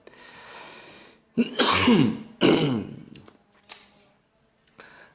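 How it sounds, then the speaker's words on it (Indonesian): Two loud, harsh coughs close to the microphone, followed by a shorter throat-clearing burst and a faint breathy sound. "Batuknya belum hilang, maka harus disembuhkan dengan kopi"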